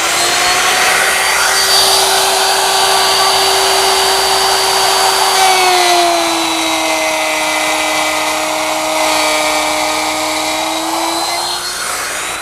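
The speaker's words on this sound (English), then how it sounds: "I've got a 1/2 inch bit in here, and I'll guide it against my T-square to make a cut" A woodworking router fitted with a 1/2 inch bit cuts a groove in wood, guided along a T-square. Its loud, steady high motor whine holds throughout, dipping slightly in pitch midway as the bit bears into the cut, with no talking.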